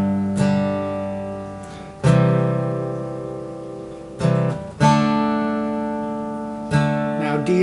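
A guitar strums a sequence of chords in G, each ringing out and decaying before the next change, moving through a short turnaround through C that resolves back to G.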